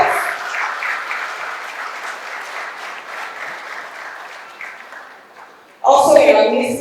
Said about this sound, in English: Please let us give them a warm round of applause.